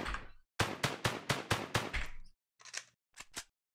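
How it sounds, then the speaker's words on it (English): AK rifle reload animation sound in an Unreal Engine 4 first-person shooter: a quick run of sharp, evenly spaced metallic clicks and clacks, then a short pause and a few final clanks, close and clean. "it's still playing the arms AK reload"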